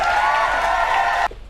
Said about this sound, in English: Round of applause for my glamorous assistant.